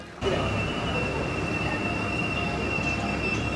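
A tram running in Île-de-France, heard from on board: a loud steady rumble of wheels on rails with a sustained high metallic squeal held throughout.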